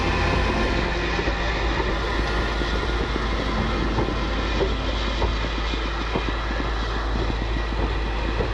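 A heritage train on the West Island Railway rumbles past in a steady, loud, broadband roar that holds evenly throughout, with no voices over it.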